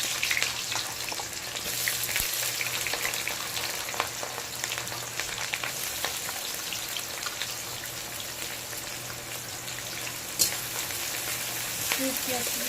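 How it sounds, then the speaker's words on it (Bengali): Dried red chilies and spices frying in a pan, a loud, close, crackling sizzle that runs steadily throughout with scattered pops and one sharper snap near the end. "শুকনো লঙ্কা দিয়ে দিলাম। মশলা দিয়ে দিলাম।"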